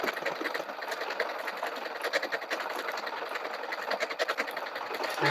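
Domestic sewing machine with an M7 cloth guide running steadily as it sews dense decorative stitches onto stabilized ribbon, a continuous rapid mechanical whir and needle patter heard alone at close range.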